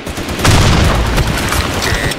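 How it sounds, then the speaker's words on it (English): A grenade goes off in the BlackShot shooter game, a loud, dense boom with crackling gunfire-like bursts filling the whole short stretch at close range. "Fire in the hole. Grenade."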